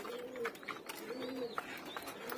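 Pigeons in a loft coo softly and repeatedly at a moderate distance, with light rustling and scattered clicks in the background.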